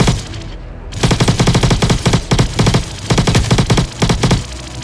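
In the video game Star Citizen, a Demeco gun fires in loud, rapid automatic bursts separated by short pauses, close and dominant.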